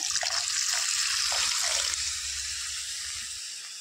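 Water poured steadily into a glass holding black khar, an alkaline ash made by burning banana stem, giving a close, bright rushing hiss that fades slightly toward the end.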